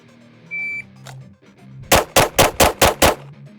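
Six pistol shots fired from 7 yards in a timed drill, each a sharp, loud crack in a quick, even cadence, preceded by a short timer beep.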